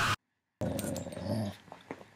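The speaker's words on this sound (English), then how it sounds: "It's a dog." A dog growls in a low rumbling burst lasting about a second, close and fairly loud, after a short opening noise, with faint snuffling and a sharp sound at the very end.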